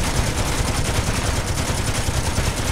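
Four ship-mounted machine guns fire in the space video game Space Engineers, a loud, dense, unbroken rattle of rapid shots that carries on throughout with no voice.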